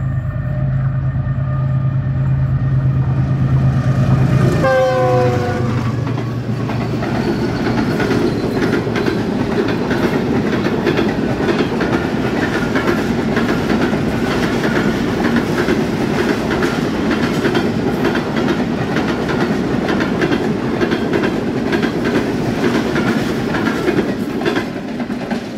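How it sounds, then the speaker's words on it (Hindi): The Karakoram Express passenger train speeds past a station near Karachi, arriving with a horn-like rising tone, then a loud, sustained rumble and rapid clickety-clack of wagons continuing close by. "42 डाउन कराकरम एक्सप्रेस GU 40 9034 के साथ आ गई, जिसको हमने सेम लोकेशन से कैप्चर किया।"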